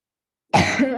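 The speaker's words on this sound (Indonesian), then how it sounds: "saya batuk-batuk soalnya baru sembuh dari radang" A person with a throat still sore from a recent inflammation gives a short burst of coughing and throat clearing, close to the mic, after about half a second of silence.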